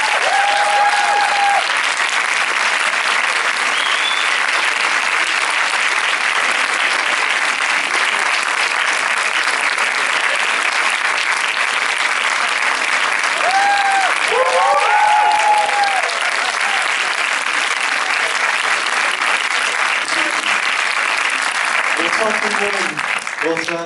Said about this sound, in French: Donc merci de faire beaucoup de bruit pour Nathan Ambrosioni, Camille Cotin et Man